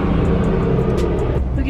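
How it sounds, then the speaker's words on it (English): A garbage truck sits close behind a car, its heavy engine giving a steady, loud low rumble for the whole moment while someone talks over it. "The garbage man is right behind me, like the truck."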